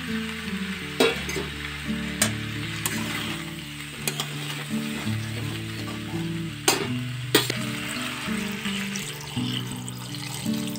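Cauliflower and potato curry sizzles and fries steadily in a pan, with occasional sharp clinks and scrapes of stirring over the continuous crackle.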